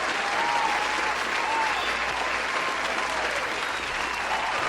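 A studio audience breaks into steady applause, a dense, even wash of clapping that holds at a constant level for several seconds with no talk over it.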